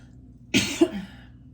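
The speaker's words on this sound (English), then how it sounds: "I don't know why I'm coughing." A single short cough bursts out, then a second softer cough follows, close up in a quiet room.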